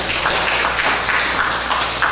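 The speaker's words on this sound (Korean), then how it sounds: "박수를 하겠습니다" Applause from a church congregation: loud, sustained clapping from many hands, dense and even throughout, with scattered sharper claps standing out.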